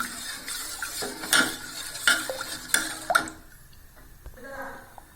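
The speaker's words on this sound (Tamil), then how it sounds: "கை விடாமல் நம்ம இதை கிண்டிக்கிட்டே இருக்கணும்." A spoon stirs urad dal porridge in a pot, making several close scraping and clinking knocks over the first few seconds before the sound fades to near quiet.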